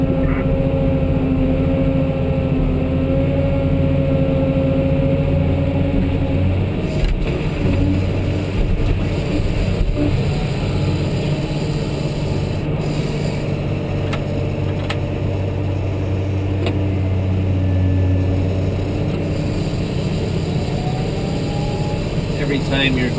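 A Cat 988H wheel loader feeding a conveyor belt drones steadily nearby, its diesel engine rumbling low and changing slightly in pitch while a person talks over it.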